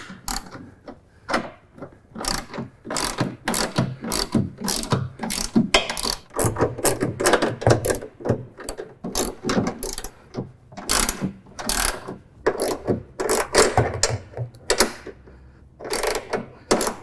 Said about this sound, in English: we need an 18mm wrench and a 17mm socket and ratchet to tighten things up